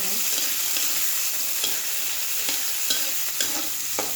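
Tiny shrimp fry loudly in a pan with a steady, dense sizzle, and a few soft clacks of stirring break through now and then, with no voices.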